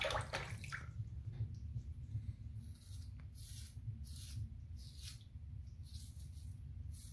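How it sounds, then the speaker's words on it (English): Water swishes and splashes faintly in a bathroom sink as a shaving razor is rinsed, soft sloshing bursts over a low steady background. "once the hairs get all clogged up, you want to swish it around"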